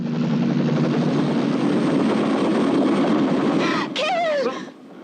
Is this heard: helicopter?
yes